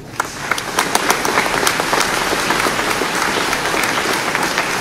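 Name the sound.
applause from conference audience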